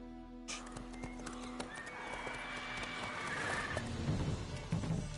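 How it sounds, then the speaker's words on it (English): Neighing and hoofbeats from a horse in The Witcher 3, with a whinny breaking out over steady clopping that builds louder toward the end against a game soundscape. "Whoa there, Roach."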